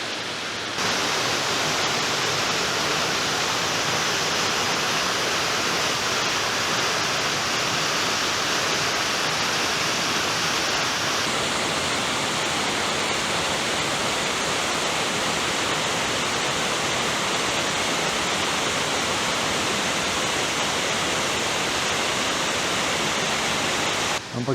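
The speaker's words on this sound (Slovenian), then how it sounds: "Ampak to šumenje vode pa ta mir tlele." Rushing water of a waterfall on the Martuljek mountain stream roars continuously and loudly close by, a dense, steady broadband hiss with no voices for the whole length.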